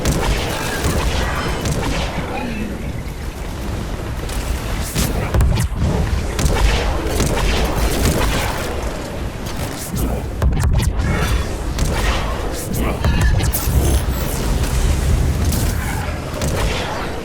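Gunfire and booming explosions from Mass Effect 3 pound continuously through a loud, dense combat mix of shots, thuds and blasts without letup.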